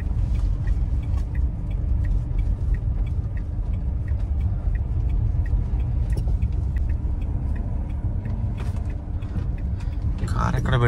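A car idles and rumbles low and steady as it is brought to a stop and parked, with faint creaks and clicks of handling near the end.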